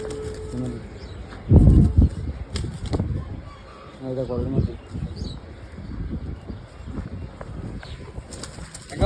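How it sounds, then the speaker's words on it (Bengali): A white jiragola pigeon gives soft, low cooing calls nearby, heard over background noise and some talking. "জিরাগলা কবুতর সুন্দর আছে কবুতরটা"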